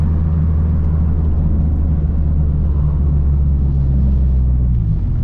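Steady low engine rumble of a Honda B-series or K-series car driving, constant and fairly loud with a deep droning tone throughout.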